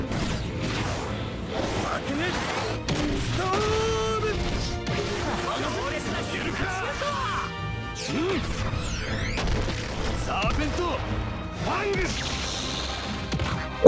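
A special shot move in the soccer video game Inazuma Eleven Go Strikers 2013 plays out as a busy burst of game effects: crashes, whacks, whooshes and booming impacts. Sweeping tones and music run alongside the effects, and a voice talks intermittently.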